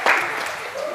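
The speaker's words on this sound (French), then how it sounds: "On peut applaudir, hein, oui." Brief burst of audience applause at a Paris tournament, starting abruptly and continuing as a steady wash of clapping for about a second.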